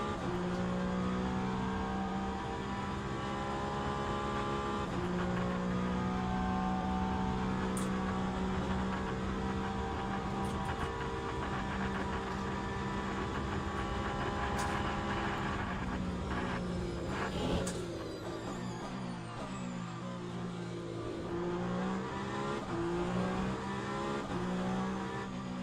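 Hypercar prototypes in an endurance racing video game scream past with steady high engine tones, several cars overlapping and shifting pitch as they pass, a constant loud engine drone throughout.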